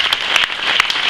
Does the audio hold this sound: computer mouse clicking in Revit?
no